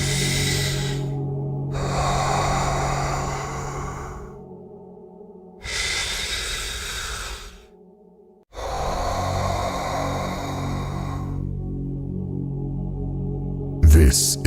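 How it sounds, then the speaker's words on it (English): Slow, deep belly breaths, each long inhale or exhale a steady airy rush lasting several seconds with short gaps between, close and clearly audible over a low background hum. "Place your hand on your belly and take a deep breath."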